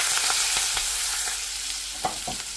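Mustard seeds, asafoetida and curry leaves sizzle steadily in hot oil for a prawn and baby brinjal dish, with loud crackling spatter and a few sharper pops, close up and without talk.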